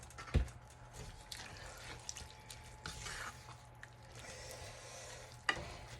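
Vegetable broth pours into a pot of cabbage soup with a soft continuous splashing trickle and faint drips, a brief knock at the start and another near the end, and no voices.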